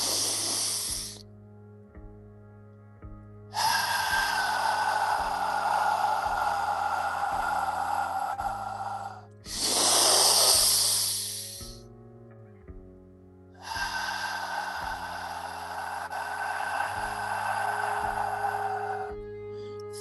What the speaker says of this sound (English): I'll try to breathe loud enough so you can follow my breath for a few moments